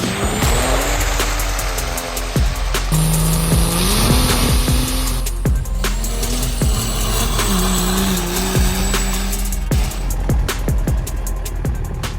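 A truck rolls steadily along a highway at the Virginia-Kentucky line, with continuous road and engine drone, shifting tones and occasional clicks inside the cab, close and fairly loud, with no talking.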